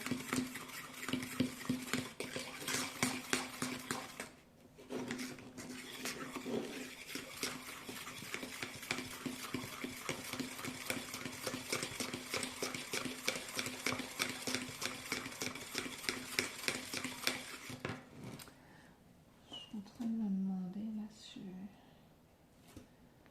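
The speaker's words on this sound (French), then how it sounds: "On mélange tout ça pour que ça fasse une pâte qui est assez liquide" A spoon stirs powdered resin into a fairly runny paste, scraping quickly and steadily against the container for close to twenty seconds before stopping. A soft voice speaks near the end.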